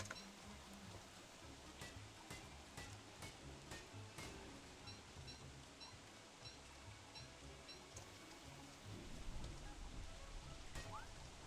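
Steady rain falling in the survival video game Don't Starve Together, a dense broadband patter running throughout with a few sharper drop-like ticks and low game sounds underneath, growing slightly louder near the end.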